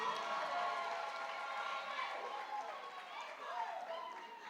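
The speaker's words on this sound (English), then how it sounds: "Let's clap for the parents." A large crowd applauds the parents at a UNAM graduation ceremony in Keetmanshoop, a sustained, even wash of clapping from a hall full of people, with some cheering.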